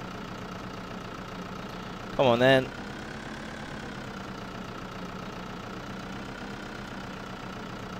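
A Lamborghini tractor in Farming Simulator 2013 drones with a steady, rumbling engine note that holds throughout, while someone speaks briefly over it.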